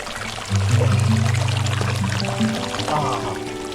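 Hot spring water pours steadily into the Unhavare hot water tank at Dapoli, a continuous close splashing flow with a low tonal hum running beneath it, and no talk over it.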